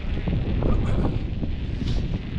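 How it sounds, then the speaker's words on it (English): Wind buffets the microphone in a constant loud, low roar with gusty fluctuations while riding a BMX outdoors at night. "It's even a little bit windy out."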